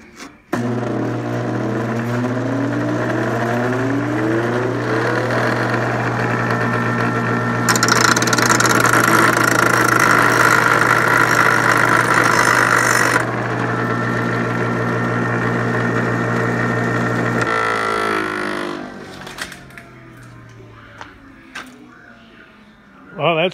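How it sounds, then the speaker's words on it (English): A bench grinding wheel runs steadily at a loud, close, constant whine in a workshop, with a brief higher-pitched stretch mid-run before it spins down near the end. "So I'll just switch on"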